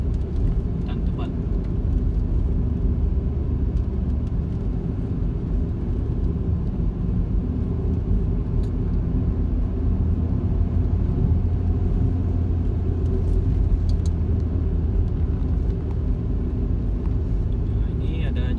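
A car climbs a forested mountain road in Sabah between Ranau and Kota Marudu in low gear, giving a steady, close engine and tyre rumble that holds for the whole stretch.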